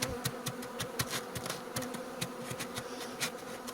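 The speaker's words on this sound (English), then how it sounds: "I got bees whizzing past my face the whole time here" Honey bees on cleansing flights whiz past close by near a snowy winter hive, with soft buzzing that rises and fades in quick repeated passes.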